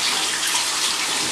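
Warm running water rinses shampoo out of a makeup brush, a steady close hiss of flowing tap water with no pauses.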